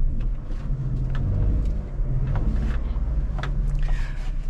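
A Maruti WagonR running on CNG in village lanes gives off a steady, low engine rumble and road noise heard from inside the car, with a few faint clicks and no one speaking.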